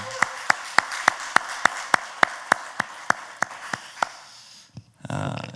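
Hands clap in a steady, evenly spaced rhythm from a church congregation, about four sharp claps per second for four seconds, then a brief pause and a short burst of rougher noise.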